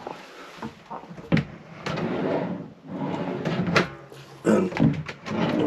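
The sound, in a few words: drawer opening or closing on widebeam boat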